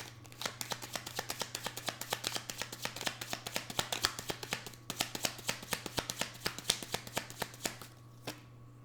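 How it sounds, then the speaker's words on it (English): Tarot cards are moved around and shuffled, producing a quick, even run of crisp riffling clicks at close range that stops near the end, over a faint steady hum. "I'm going to move the cards around a little bit."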